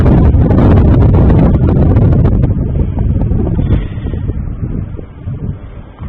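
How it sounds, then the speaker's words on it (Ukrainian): Loud wind of about 3 metres per second roaring across the microphone outdoors, strong at first and then easing to a lower, gusty rumble. "вітер майже 3 метри на секунду"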